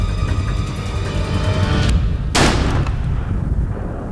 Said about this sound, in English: I got a good shot. Take it.